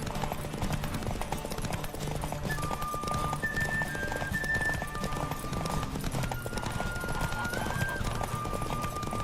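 Roach the horse gallops along a straight road in The Witcher 3, a continuous rapid clip-clop of hooves at a steady rhythm, close and fairly loud, with game music tones faintly above.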